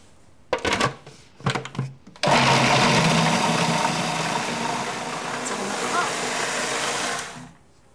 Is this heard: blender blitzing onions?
yes